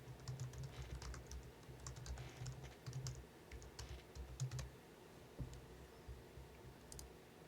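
Someone types a Google search on a computer keyboard: faint, rapid key clicks come in irregular bursts with short pauses, then a few scattered taps, with no voices.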